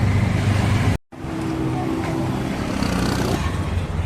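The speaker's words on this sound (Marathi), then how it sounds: "फायनली रिक्षा भेटलेला आहे." Engine rumble and road noise from inside an auto rickshaw moving through traffic, a steady loud drone that cuts out briefly near the start and then continues.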